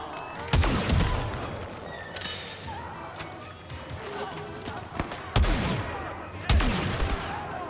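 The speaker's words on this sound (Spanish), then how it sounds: "Lo que me gusta son los disparos láser." Laser blaster fire from the Star Wars Battlefront II campaign, with a few sharp, loud shots at intervals over a busy backdrop of battle noise and ambience.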